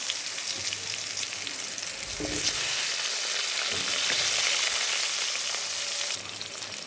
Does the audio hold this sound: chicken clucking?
no